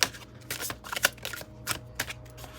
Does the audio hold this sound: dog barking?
no